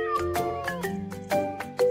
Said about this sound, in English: I hugged the cat who lives under the bench in the park.